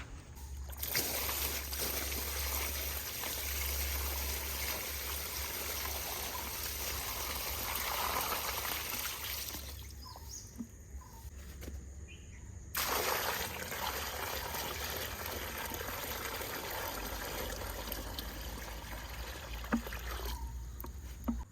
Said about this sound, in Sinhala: අපිට දැන් තියෙන්නේ මේකට වතුර පුරවලා මාළු අල්ලන් එන්න තමයි ඇලෙන්